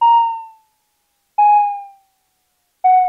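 Three repeated synthesizer notes from a Macrofreak, each struck and then decaying over about half a second with an audible downward pitch drift in the release, clean and close with silence between.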